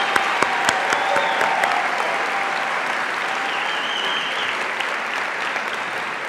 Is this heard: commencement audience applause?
yes